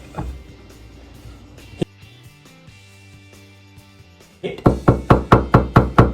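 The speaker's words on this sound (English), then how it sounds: "Knock on the door." A plate flipped over a bowl is knocked on, a sharp tap early, then a rapid run of about eight loud, evenly spaced knocks near the end, over low background noise.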